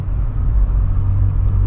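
Steady low engine drone and road rumble from a Volkswagen fitted with a TSI engine, cruising along, close and continuous with no voices.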